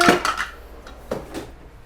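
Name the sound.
stirring food in a pot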